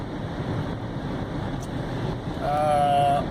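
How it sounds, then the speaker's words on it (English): Rough, buffeting gusty wind battering the microphone outdoors, rising stronger toward the end, with a faint tonal whine over the roar. "This is quite a blustery, windy thing."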